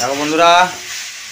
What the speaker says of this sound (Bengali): আমার বউ আবার এখন একটু মাংসটাকে কষিয়ে নিচ্ছে, তলার দিকে যাতে না পুড়ে যায়।